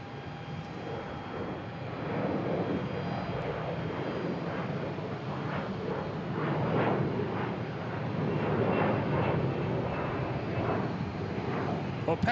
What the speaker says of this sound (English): Taking off next is Delta heading to LaGuardia in E175 as well,